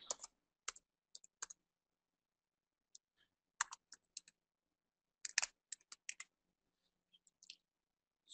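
Someone types a username and password on a computer keyboard in sparse bursts of close, crisp key clicks separated by quiet pauses.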